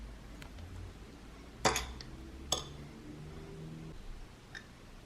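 Ingredients and butter go into a slow cooker for a pot roast, with two distinct clunking, clinking impacts against the ceramic and some faint rustling in an otherwise quiet kitchen.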